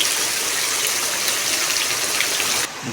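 Heavy unseasonal rain pours down in the Konkan countryside, a dense, loud, continuous hiss and patter of water falling on surfaces, steady throughout with no voices.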